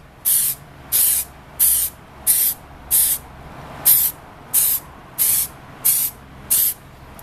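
Short bursts from a spray can misting primer onto a model, about ten evenly spaced hissing puffs, each under a second, close and alone over a faint background.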